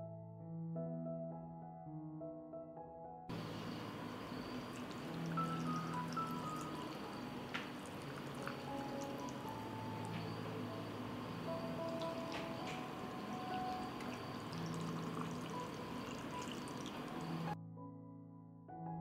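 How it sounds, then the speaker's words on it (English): Lukewarm water is poured steadily into glass jars, a continuous soft pouring and trickling stream lasting around fourteen seconds, close and moderately quiet, with faint background tones before and after. "I pour lukewarm water into the jars."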